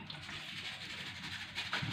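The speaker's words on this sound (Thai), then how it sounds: "ละเราก็มาเทน้ำออก" Water being poured off mung beans that have soaked for about five hours, a steady close splashing trickle of liquid with no talk over it.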